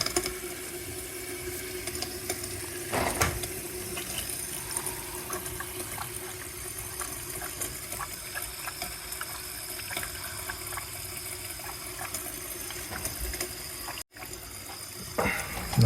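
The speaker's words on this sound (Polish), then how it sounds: "Teraz pompa cały czas coś wypompowuje." A flooded dishwasher's drain pump runs continuously, giving a steady low hum with a running, trickling water wash over it, a faint click or two, and no talk.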